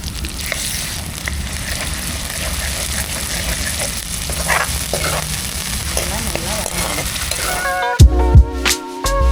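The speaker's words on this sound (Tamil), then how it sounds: "இப்போ கொஞ்சோண்டு இஞ்சி பூண்டு பேஸ்ட் இறக்குறது" Ginger garlic paste fries in a pan, a dense, continuous sizzle held close and loud, ending in a few abrupt clattering knocks.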